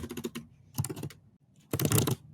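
Keys clatter on a computer keyboard in three rapid bursts of typing separated by brief pauses, crisp and close with no talking.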